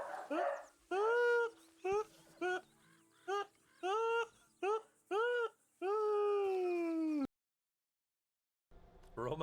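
A dog whimpers and wails in a sequence of about eight rising, drawn-out cries in Final Fantasy 14, the last one the longest, followed by a brief silence and a faint rustle.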